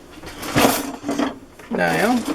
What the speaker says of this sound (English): Now, if we can get the drawer to close,